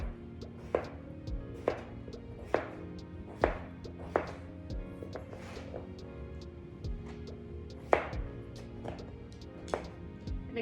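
A knife chops potatoes into uniform pieces on a cutting board, sharp, spaced thunks at an irregular steady pace, close and clear against a quiet background.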